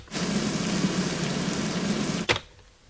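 Steady rain pours down in a dense, even hiss for a couple of seconds before a sharp click cuts it off abruptly into quiet.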